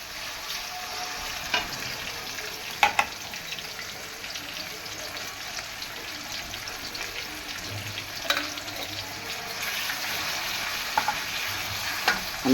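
Ginger garlic paste and chopped green chillies frying in a pan for paneer palak, a soft continuous sizzle with occasional stirring clicks and scrapes, fairly quiet and close.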